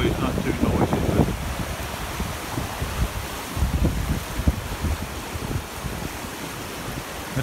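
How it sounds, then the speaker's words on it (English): Wind gusts across an open farm hay field, buffeting the microphone with a constant low rumble and roar that swells and eases, with a voice heard now and then. "Wind blowing. Hopefully it's not too noisy."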